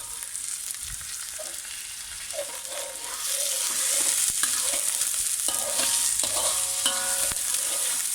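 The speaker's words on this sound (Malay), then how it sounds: "Tumis sehingga kekuningan." Garlic and curry leaves sautéing in hot oil, a continuous sizzle that grows louder partway through, with repeated spatula stirs and scrapes close by and no speech.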